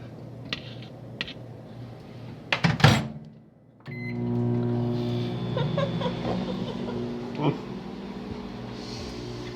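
A microwave oven hums steadily after a few clicks and a door clunk, with faint kitchen clatter nearby.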